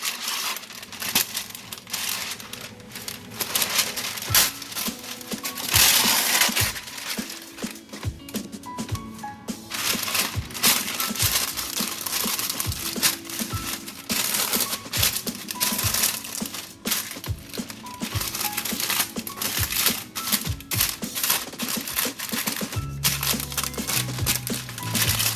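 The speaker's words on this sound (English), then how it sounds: "I'm going to use the parchment paper to layer the pan." Parchment paper crinkling and crumpling as it is pressed into a pan for homemade granola, close and loud, with repeated rustling bursts and a few clinks of the pan throughout.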